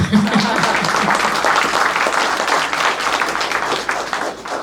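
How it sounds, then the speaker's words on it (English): Audience applause at the Congressional Gold Medal presentation ceremony in Simi Valley, loud sustained clapping from a large crowd that tapers off slightly at the end. "You can clap now."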